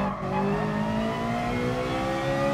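A Corvette GR.4 race car engine in Gran Turismo Sport at Suzuka holds a steady, low, loud grumble at seemingly low revs, alone and unbroken, with faint tire noise.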